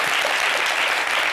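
Audience applause for a singer on a television show set, dense continuous clapping that is loud and close throughout.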